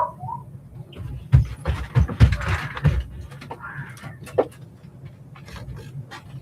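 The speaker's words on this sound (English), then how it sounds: "Dogs are barking, grandson's running around upstairs." Dogs barking indoors while a child runs around upstairs, a few sharp barks bunched in the middle with panting and scattered household noise between them.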